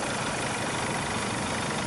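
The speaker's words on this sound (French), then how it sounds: "Vous voyez, le moteur est sain et propre." Steady, unbroken engine drone from a camper van idling, heard close up with the hood open, a dense even rumble with no voices or changes in pitch.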